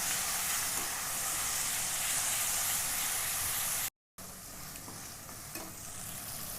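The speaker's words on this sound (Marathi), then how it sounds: "याला चांगला पूर्णपणे परतून घ्यायचा आहे आपल्याला" Stone-ground spice paste frying and being stirred in a hot pan for spicy chicken lapeta, a loud, steady close sizzle with faint scraping of the spoon throughout, briefly cut off by a moment of silence before resuming.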